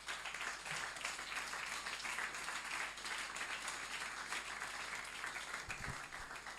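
A church congregation applauds and cheers at a youth gathering, a steady, dense wash of clapping that sounds somewhat distant and soft throughout.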